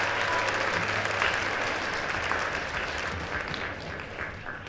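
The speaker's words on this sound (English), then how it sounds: "round of applause for that." A school band concert audience applauds steadily, a dense wash of many hands clapping that slowly eases off over several seconds.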